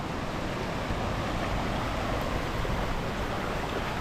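Warm spring water pours and rushes over the travertine cascades at Cascate del Mulino, a steady, loud, broadband wash of flowing water with no break and no voices.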